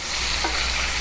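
American Wagyu and USDA ribeye steaks sizzle loudly and steadily in a pan while being basted with herb butter, a dense, even frying hiss with no talk.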